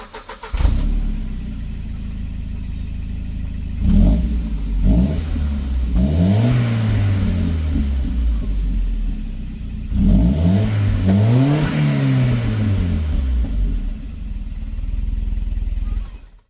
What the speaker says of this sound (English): Let's fire up, give her a rev, and see what there is difference in sound.